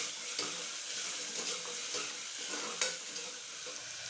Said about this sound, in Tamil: அதையும் இப்போ நல்லா வதக்கலாம்